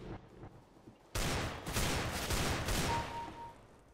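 Counter-Strike: Global Offensive deathmatch gunfire from behind: a sudden loud burst of rapid shots that keeps cracking for a few seconds after a quiet start.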